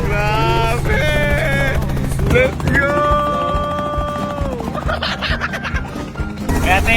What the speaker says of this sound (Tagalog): Salamat dahil pinirap tayong chopper.